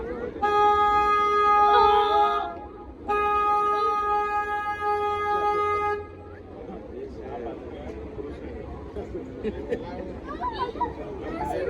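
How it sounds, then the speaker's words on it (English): A loud car horn blares twice in long blasts, separated by a brief gap, with crowd chatter and voices continuing underneath and afterward, on a summer cruise in downtown San Antonio near the Riverwalk. "I'm going to honk my horn"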